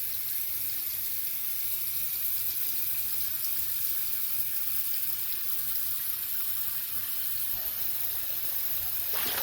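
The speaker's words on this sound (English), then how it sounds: "I am going to stop that up, and I'm going to have some lukewarm water in here" Lukewarm tap water runs steadily into a stopped-up sink, a continuous close gushing and splashing that shifts slightly in tone near the end, with no talk.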